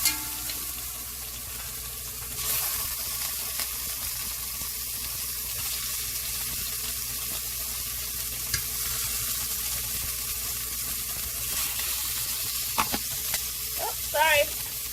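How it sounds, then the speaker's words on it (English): Beef searing in a tablespoon of avocado oil, a steady close sizzle running throughout with brief clinks and stirring noises near the end, no talking. "I just dropped in a tablespoon of avocado oil. We're going to sear off our beef."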